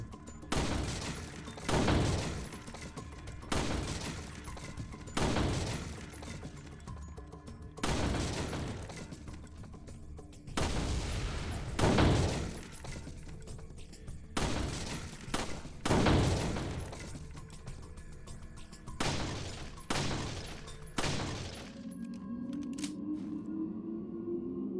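Gunfire at a shooting range in Resident Evil 4, a steady series of sharp, loud shots spaced a second or two apart with mechanical reload clicks between, ending in a short electronic tone.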